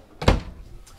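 A drawer in an RV slides open with one short thump and rattle, close and fairly loud, followed by quiet.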